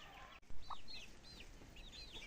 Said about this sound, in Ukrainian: Бентаменятка ось бігають, бачите?